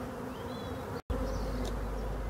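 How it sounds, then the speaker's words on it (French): Honeybees buzz steadily at a hive that is being left to swarm, a close, continuous drone with no talking. "le sujet c'est de visiter une ruche que je vais laisser essaimer"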